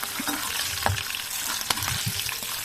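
Lentils and red chillies frying slowly in a pan over a low flame, a steady soft sizzle with occasional crackles and scraping stirs, close and without speech.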